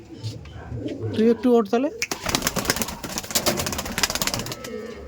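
Giribaz pigeons in Budge Budge give soft, throaty coos close by as someone speaks briefly, and busy tapping and fluttering noises follow.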